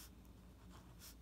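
A pen or pencil writes briefly on paper while a bar graph is labelled, a short, soft scratching stroke against low background hum.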